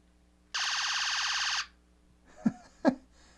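An electronic sound effect from a battery-powered Transformers G1 Shockwave action figure: a loud, buzzy, pulsing siren-like tone lasts about a second, followed by two short thumps.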